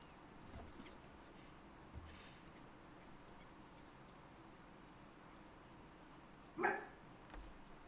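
A single sharp dog bark sounds indoors against quiet background hum, with a couple of faint soft knocks around it.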